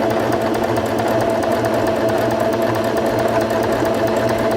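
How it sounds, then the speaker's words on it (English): A Singer Fashion Mate 5560 sewing machine stitches a straight seam with a Sew Easy foot, giving a loud, even motor hum with a rapid needle rattle that never breaks. "Step on the foot control to begin sewing again"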